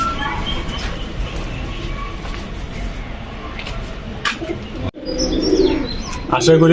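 Giribaz pigeons coo softly at a home loft, with low steady cooing and scattered chirps under background noise, then a brief louder flurry of calls near the end.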